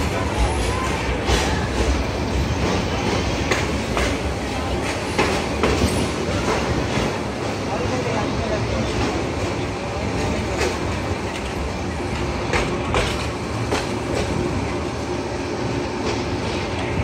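The Kishoreganj Express passenger train runs steadily on its rails, a continuous rolling rumble with repeated clattering wheel beats and occasional sharper knocks, heard from inside the train.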